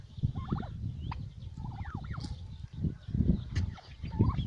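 Turkeys gobble and chortle nearby in repeated bursts over a low, continuous rumble of outdoor background noise.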